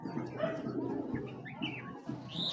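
Imported Chinese female pigeon cooing at close range, giving a few soft, low throaty coos with faint chirps and background noise mixed in.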